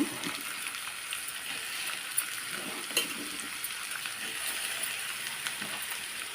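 Ivy gourd and chopped onion fry together in a pan with a steady, close hiss of sizzling oil, broken by a few light clicks from stirring, with no speech.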